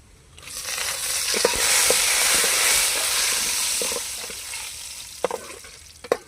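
Dried red chillies and curry leaves dropped into hot oil for moong dal, a loud burst of hissing sizzle that swells then slowly fades, with scattered crackles and a few sharp utensil taps near the end.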